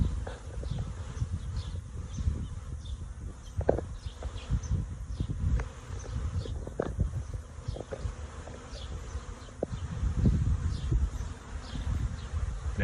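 A large honeybee swarm fills the air outdoors during a swarm capture with a trash can and pole, a loud, dense, continuous buzz with individual bees zipping past close by, steady throughout with no talking.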